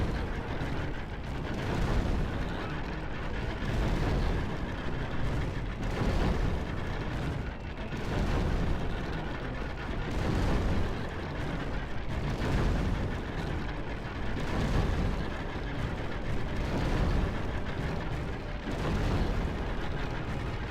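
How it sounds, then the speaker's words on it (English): In a Sassanid medieval strategy battle, onagers lob rocks in a steady rumbling barrage of heavy thuds and crashes that roll on continuously with no talk. "Let the onagers do their thing. Just lobbing rocks."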